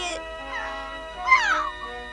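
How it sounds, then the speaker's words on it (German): An injured cartoon cat in an animated Smurfs episode yowls in drawn-out, wavering cries of pain, two plaintive meows rising and falling over a soft music bed. "dieser armen, verletzten Katze, die von Schmerzen gepeinigt um Hilfe schreit"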